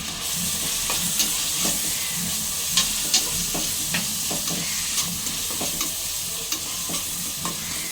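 Chopped onions and green chillies sautéing in oil for a gongura goat-offal curry, a constant close sizzle broken by frequent scraping stirs and clinks of a ladle against the pan.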